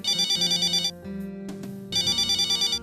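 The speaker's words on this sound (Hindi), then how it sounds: "फोन उठाइए।" A loud electronic phone ringtone trills in two bursts separated by a brief gap, with some muffled background movement between rings.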